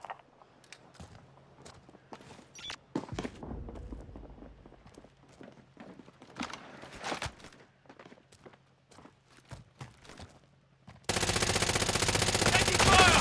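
Gunfire in the battle royale shooter Call of Duty Warzone, with scattered sharp cracks and short bursts at varying distances over quiet footsteps, ending in a loud sustained wash of noise.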